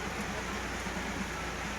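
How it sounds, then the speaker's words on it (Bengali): Dense, steady hiss of heavy rain pattering on surfaces nearby, continuous and unbroken. "প্রচন্ড বৃষ্টি, নামা যাবে না।"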